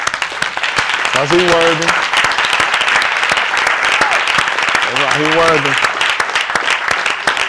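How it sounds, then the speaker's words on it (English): A congregation at a live-streamed service claps loudly and continuously, a dense near wash of hands while someone talks over it and brief sung or called-out tones rise twice. "Give Mr. Who a hand clap."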